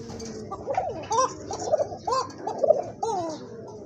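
Chinese owl pigeons in a breeder's collection coo in a series of soft, rolling, throaty calls, close by and repeating steadily with no talk.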